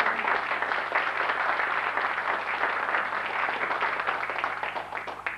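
A seated crowd at a book launch keeps up steady applause, a thick, continuous patter of many hands that slowly fades toward the end.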